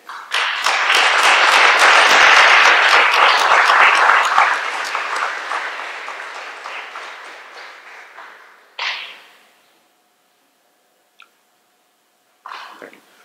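At a naturalization oath ceremony, a crowd applauds for Bangladesh with a loud burst of clapping that peaks early, then slowly fades into scattered claps and near silence, broken by a few isolated sounds.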